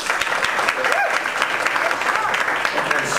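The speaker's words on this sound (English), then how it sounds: "let's give him a warm round of applause for Sean Hickey" Warm round of applause for speaker Sean Hickey at a talk event, steady dense clapping from a sizeable audience that fills the room evenly for several seconds, with faint voices mixed in.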